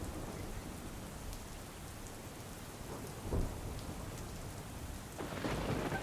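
Heavy rain falls in a steady dense hiss, with a brief sharp knock midway and the downpour growing a little louder toward the end; no voices.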